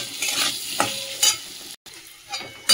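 Kohlrabi and radish with salt and turmeric are stirred in a hot pan. Close sizzling comes in bursts with each stroke, briefly cutting out near the end before resuming.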